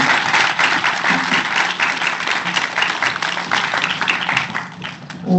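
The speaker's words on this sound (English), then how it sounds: "Give a round of applause for Liz." An audience at a nursing and midwifery research forum applauds a presenter with dense, steady clapping that holds loud for several seconds, then thins slightly near the end.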